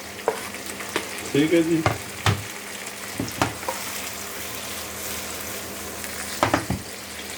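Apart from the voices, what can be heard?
tomato frying and stirred in pan for palak paneer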